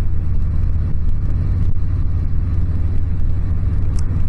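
Road traffic rumbling past on a highway, heard from a motorcycle rider's action camera with a steady, loud low engine and wind drone throughout.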